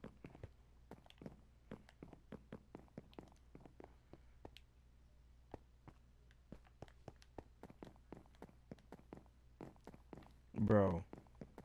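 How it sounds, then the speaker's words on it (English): Footsteps in Minecraft during a hide and seek game tap out a steady, quick rhythm of short, faint steps. A voice briefly cuts in near the end. "Yes, you can hear his footsteps in Minecraft"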